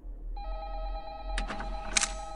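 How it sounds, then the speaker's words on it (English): Telephone ringing in the video game Five Nights at Candy's 2, a steady electronic ring tone with sustained harmonic tones, joined partway through by brief louder clicks and bursts from the game. "You should go answer the phone."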